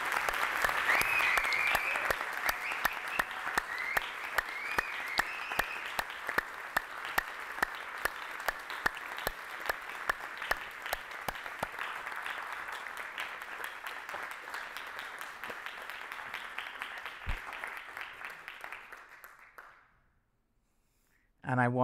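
Conference audience giving sustained applause for a speaker's vision and courage at a session on nature-based solutions, dense clapping from a large room that slowly fades out and ends in near silence.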